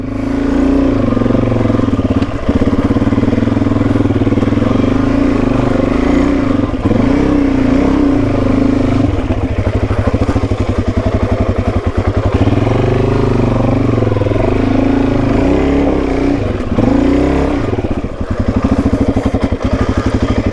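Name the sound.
Suzuki DRZ400E motorcycle climbing steep rocky track in low gear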